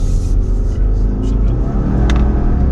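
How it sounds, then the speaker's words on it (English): A 2020 Subaru Outback accelerating hard, its engine note loud and close from inside the cabin as a steady rising drone, with road rumble underneath. "first off, acceleration. Wow, that's pretty quick."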